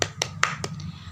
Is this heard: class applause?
yes